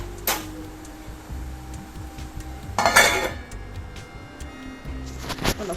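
A metal lid clatters onto a pan of clam fry cooking on low flame, with sharp clinks at the start, a louder clang midway and more clinks near the end over a quiet kitchen background.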